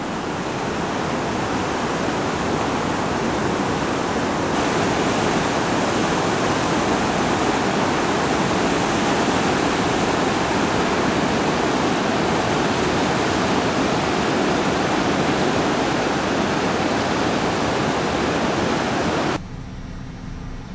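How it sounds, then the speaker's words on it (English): Flood water rushes loud and continuous down a normally dry desert wash in Tanque Verde, a dense broadband roar like a waterfall that holds steady throughout with no voices over it. "we've never seen our wash flowing like this."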